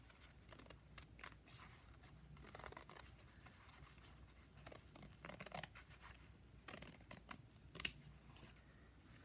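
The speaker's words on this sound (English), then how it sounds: "I think I'm going to cut this one out" Scissors snip through paper to cut out a poppy shape for a slow-stitch notebook, producing soft, irregular close-up clicks and rustles at low volume.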